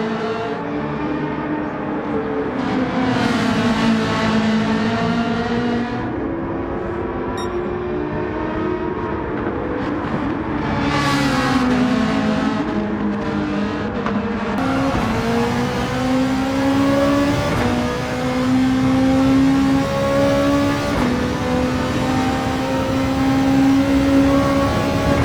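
A Ferrari race car in Gran Turismo 7 at the Dragon Trail Gardens circuit, its engine droning and revving loudly and continuously, the pitch climbing and dropping through several gear changes.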